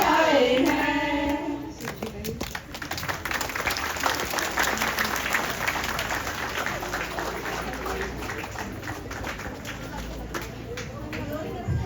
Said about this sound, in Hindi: हमारी माताओं की इस धमाकेदार नाटक के लिए जोरदार तालियां